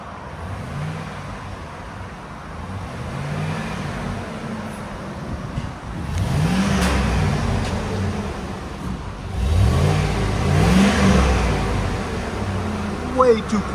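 A freshly painted 2001 GMC Sierra with a 5.3-liter V8 idles close by with a low rumble, swelling twice into short revs before settling back, with faint talk at the edges.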